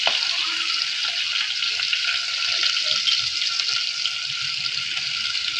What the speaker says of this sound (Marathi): कांदा ब्राऊन होईपर्यंत शिजू द्यायचा आहे आपल्याला